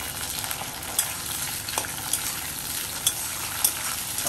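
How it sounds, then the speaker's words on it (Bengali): Tomatoes tossed into a pan of already-fried onions sizzle steadily and close up, with a continuous hiss of frying and a few sharp clicks from stirring. "টমেটোটা দিয়ে একটু ভেজে নেব"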